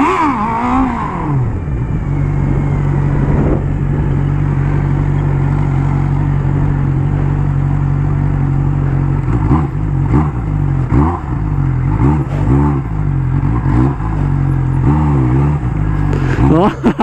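Honda Hornet motorcycle engine revving hard and steadily while the rider works the clutch during wheelie practice, a loud sustained drone with rising and falling pitch over the whole clip.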